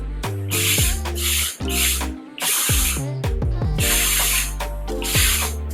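Hair spray from an aerosol can misted in repeated bursts, each a loud close hiss with a rattling mechanical edge and short gaps between sprays.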